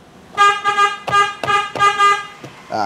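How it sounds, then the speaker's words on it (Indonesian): A third-generation Toyota Vios car horn honks in a series of short, loud toots with brief gaps, sounding close by. "Klakson udah bunyi, berarti udah aman ya"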